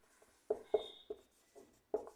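Handwriting on paper during a Hindi-medium grammar lesson, heard as five or six short scratchy strokes spaced irregularly across two seconds, fairly close and quiet with no voice over them.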